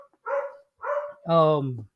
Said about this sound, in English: my dog has started to bark saying, hey, I don't want to be alone anymore.